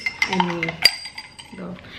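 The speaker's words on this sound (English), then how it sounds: "and here are my ice cubes" Ice cubes knock and clink against a drinking glass while cold coffee is being made, a handful of sharp glassy taps and chinks close up in a quiet kitchen, with no talking.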